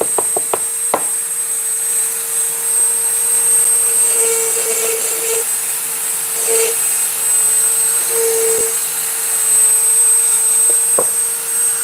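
A rotary tool fitted with burrs grinds wood with a continuous high whine, broken by brief taps and changes in load as the burr bites, loud and close with no talk.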